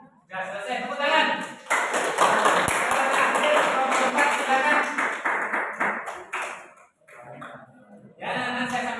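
A class applauds after a presentation during a teacher-training arts lesson, dense clapping that fills the room for about six seconds, then fades into scattered claps and murmurs before rising again briefly.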